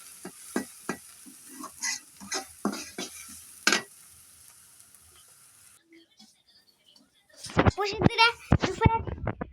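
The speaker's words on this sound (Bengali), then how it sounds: "পেঁয়াজ মরিচ এখানে দিয়েছি তেলের উপর" Onion and chili fry in oil in a home kitchen for catfish curry, crackling with spoon scrapes and pan knocks, then a pause before a voice talks over the stirring.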